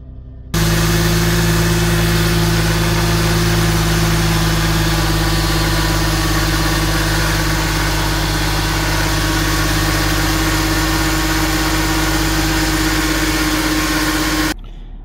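A Mercedes car engine idles steadily and close, a constant low hum and vibration that starts abruptly and cuts off near the end.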